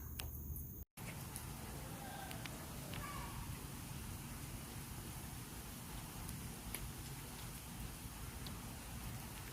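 Rain falls outdoors as a steady, dense hiss of drops on surfaces, continuous and even throughout after a brief cut at the start.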